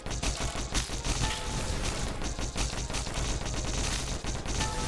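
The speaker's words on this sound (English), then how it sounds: "So now I got a machine gun build." Rapid, sustained machine-gun fire from the video game Disfigure, a dense unbroken stream of shots with busy chaotic game effects layered over it, loud and continuous throughout.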